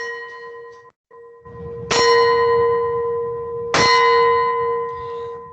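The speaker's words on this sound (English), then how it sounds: "I'm actually hitting a crystal glass with a spoon" A spoon strikes a crystal glass twice. Each hit rings out like a small bell, with long clear sustained tones over a faint ringing already fading at the start.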